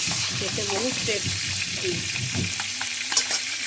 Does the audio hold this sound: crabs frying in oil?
yes